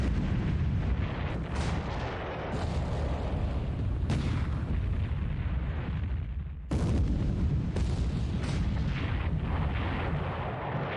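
Naval gunfire and shell hits in a war video game battle involving the battleship Kongo: dense, continuous booming barrages of artillery with sharp cracks and explosions layered over a rumbling low roar, loud and close throughout.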